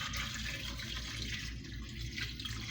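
Sauce pours from a container over meatballs in a dish, a continuous close liquid splashing and trickling wash that stays fairly steady throughout.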